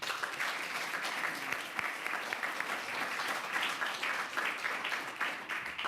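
Audience applause at a mayoral bill signing ceremony, a dense, steady wash of many hands clapping at moderate distance, continuous for several seconds without pause.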